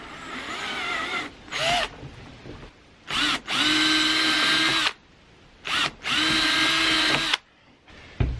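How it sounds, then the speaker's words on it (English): A power drill with a 1/8 inch bit whirs in several bursts, spinning up and bogging slightly as it bites through wood, with short quiet pauses between runs. "now I'm going to use the drill with that 1/8 inch bit to drill all the way through here"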